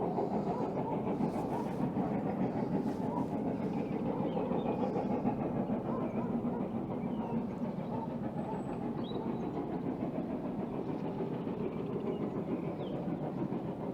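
A distant Great Western Railway train climbing a hill rumbles steadily with a low, continuous roar, unbroken for the whole stretch, heard outdoors from far off at Roundham with no talking.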